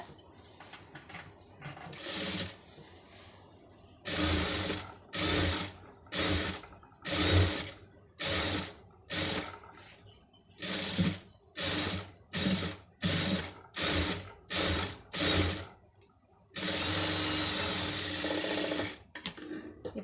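A sewing machine stitches the folded neck edge of a blouse in a run of quick, whirring bursts broken by short pauses, ending in one longer continuous run.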